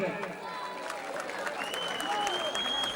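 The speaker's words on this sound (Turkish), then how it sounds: "lütfen bir alkışlayalım" At a Sarayköy association and sports club evening, a hall audience breaks into sustained, even applause, a dense continuous clatter of many hands with voices and a few whistles rising above it.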